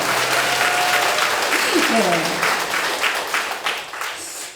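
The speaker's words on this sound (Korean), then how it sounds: "큰 박수 한번 쳐주세요." An audience at a business success-story seminar breaks into a big round of applause, dense clapping filling the room at a steady level, while a voice speaks briefly over it and a tonal sweep rises midway.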